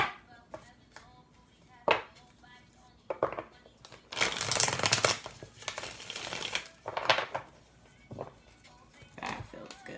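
Tarot cards being shuffled by hand: a dense papery flutter and riffle that builds in the middle, with lighter taps and slaps of the deck before and after.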